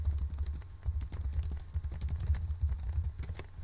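Login credentials being typed on a computer keyboard, rapid irregular key clicks close up and fairly quiet, with no voices.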